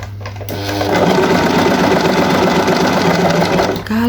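A Janome RE1312P sewing machine stitching with the foot pedal pressed, tension set to 5 and stitch length near 3: a steady, fast, loud mechanical whir that starts after half a second, runs for about three seconds, then stops.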